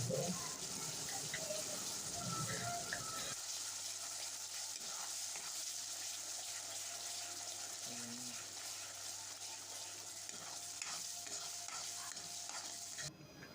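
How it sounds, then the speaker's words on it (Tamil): Ground kaara chutney paste of tomato and spices sizzles steadily in a pan while being stirred, a continuous close frying hiss with occasional scraping, no talking. "அரைச்சி வச்சுருக்கிற கலவையை அதில் கொட்டி கிளறணும்"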